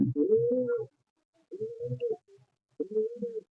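Giribaz pigeons give three soft, throaty coos in a slow, evenly spaced series, near and fairly quiet with silence between calls.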